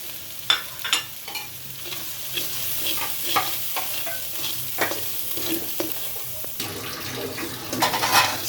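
Mustard paste, chili, turmeric and salt frying for a sweet plum-tamarind pickle, with a continuous sizzle under frequent spoon strokes against the pan, growing busier near the end.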